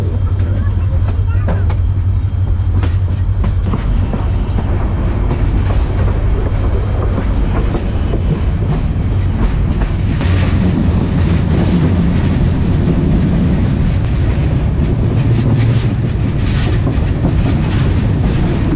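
Kurigram Express passenger train rolling out of Santahar station, a steady loud rumble of wheels and carriage noise with rail clatter and wind throughout, occasional voices nearby in the coach.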